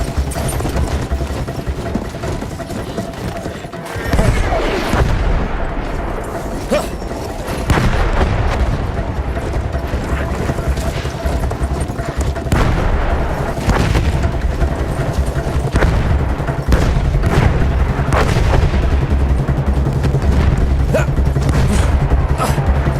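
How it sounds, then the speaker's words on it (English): Artillery fire and gunfire in the World War I shooter Battlefield 1: a loud, sustained battlefield din with repeated booming blasts and sharp cracks of shots scattered throughout, no commentary over it. "Artillery already?"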